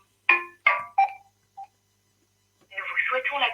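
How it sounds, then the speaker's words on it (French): A quick series of three or four clipped telephone tones rings out on a call line, followed after a short pause by a recorded voice speaking. "je vais répondre au téléphone"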